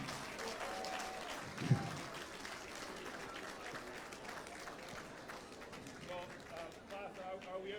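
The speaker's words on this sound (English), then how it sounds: "Let's give a big round of applause." Applause at a Jamaican diaspora forum with the Prime Minister in a full house, a soft, distant wash of crowd clapping and murmur with one sharp bump early, with voices mixed underneath.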